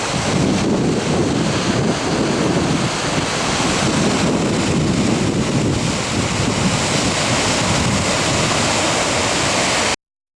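A river runs strongly along the Superior Hiking Trail in Minnesota's Tettegouche State Park, a loud, dense, continuous rush of water mixed with wind buffeting the microphone, steady for about ten seconds with no voices.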